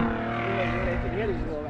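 A Camaro's engine drones close by and wavers in pitch as it revs during a quick flyby on a mountain road, with a voice talking over the motor.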